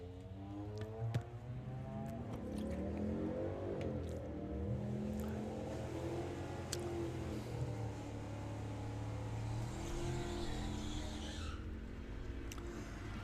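A Camaro makes a drag racing run, a faint, distant engine roar sustained throughout with shifting pitch, heard from afar without commentary over it.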